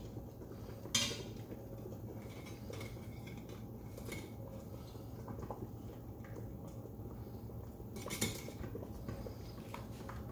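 A metal spatula wiggles under steamed buns to lift them from an Instant Pot, making faint clinks and scrapes against metal, with a sharper knock near the start and another later, quiet against a low room hum.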